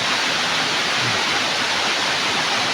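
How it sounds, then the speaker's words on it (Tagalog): A steady, close roar of rushing water pours continuously from Dikawal Waterfalls, dense and unbroken throughout. "Ganda ng agos ng tubig oh."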